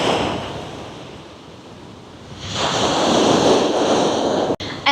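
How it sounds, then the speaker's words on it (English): Ocean surf breaks on a breezy beach, a wave washing in loud, easing off, then a second surge building and rushing strongly near the microphone, with wind noise. "it's like the surf side where it's a bit breezy and the surf's a bit wild and fresh"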